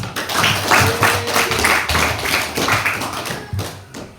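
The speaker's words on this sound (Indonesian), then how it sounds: "tepuk tangan" A room of students clapping their hands together in a steady, fairly loud burst of applause lasting several seconds, with no talking over it.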